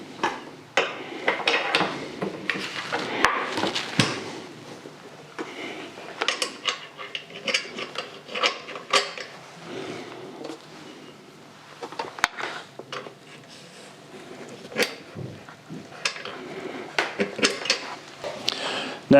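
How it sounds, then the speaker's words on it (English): Wheels being fitted onto a RocwooD pressure washer frame, with scattered close clanks, knocks and rattles of parts in an irregular rhythm, moderately quiet and with no talk. "Firstly, install the wheels onto the frame."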